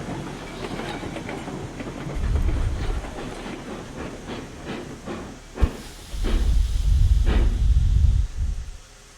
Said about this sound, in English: Now that's how you stop a train.